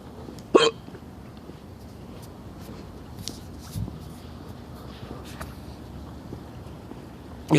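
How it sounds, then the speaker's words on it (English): Hiccups from one person, a single sharp loud hiccup near the start and another at the very end, with a quiet room between them. "Boy, I hate having the hiccups."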